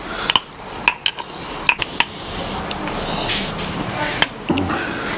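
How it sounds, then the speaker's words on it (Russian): Whole coriander seeds are crushed with a mortar and pestle for a meat marinade, producing irregular sharp clinks and hard knocks close by, spaced unevenly over a quiet background. "И аккуратно ступкой его разминаем"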